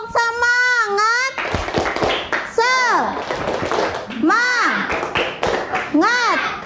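Children in an Indonesian classroom chant and clap in rhythmic bursts, sharp hand claps alternating with loud sing-song group shouts, close and energetic.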